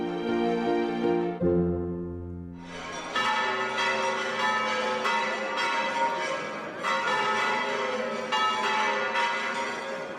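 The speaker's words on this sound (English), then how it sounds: "The continuous and incessant ringing of the bells announces the upcoming resurrection of Jesus." Church bells ring out continuously, a low tolling joined by a dense, loud peal of many bells layered over one another, with no voices.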